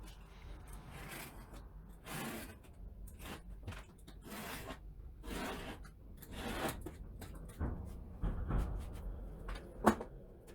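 A hand knife draws along wood veneer trimmed flush to the edge of a board, giving soft repeated scraping and rubbing strokes, fairly quiet and close, with a sharper tap near the end.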